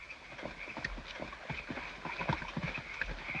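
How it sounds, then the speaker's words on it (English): Hooves of two riders' horses approaching on a Western trail, a steady uneven clip-clop of several thuds per second at moderate distance, without speech. "Dos hombres a caballo."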